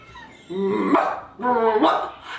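A Shih Tzu gives two drawn-out, whining barks, close by, each a rising yowl followed by a brief pause.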